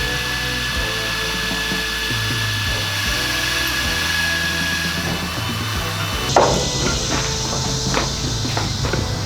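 A power drill grinds steadily into an old screw on a 1981 Honda XR80 motorcycle, a continuous whirring bite lasting several seconds, then a sharp clunk and looser, scattered metallic rattling and handling noises.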